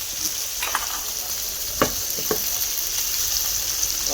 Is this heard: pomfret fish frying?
yes